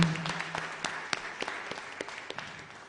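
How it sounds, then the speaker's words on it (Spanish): Scattered applause from a church congregation at a live Mass in a chapel, a thin, uneven patter of individual claps rather than a full ovation, fairly quiet and brief. "Un aplauso para los hermanos que se han llegado."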